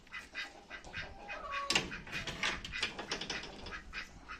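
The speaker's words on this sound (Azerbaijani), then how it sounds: "Bizim Kuban ördəklərimiz." Kuban ducks quack in a backyard poultry yard, a cluster of nasal calls overlapping at close range for a few seconds, with no talking.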